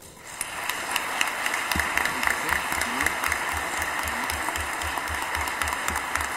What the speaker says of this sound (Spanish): les pido por favor un aplauso para los candidatos